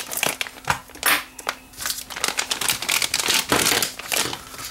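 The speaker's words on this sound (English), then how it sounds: "I have to get out the good old scissors and cut this one open." Crinkling plastic of a factory-sealed package being cut open with scissors, with a run of close, irregular crackles and snips through the whole stretch and no talk.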